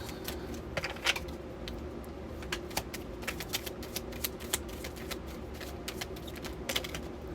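Tarot cards are shuffled in quick, crisp riffling bursts that repeat steadily and close to the listener, with no voices.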